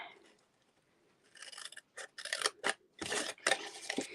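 Scissors snipping through paper while a floral treat box is made, several crisp close cuts arriving in quick irregular bursts after a quiet opening, with no talking.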